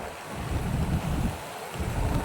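Strong rain and gusting wind roar as a steady broadband rush, loud and close, with no voices.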